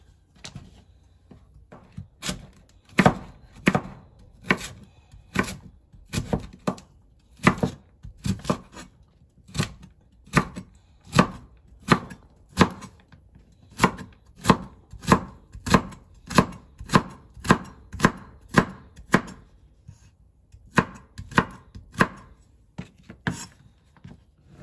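Squash being chopped into thin strips on a cutting board for ukoy, a steady run of crisp knife strikes at close range, mostly regular with brief pauses between bursts.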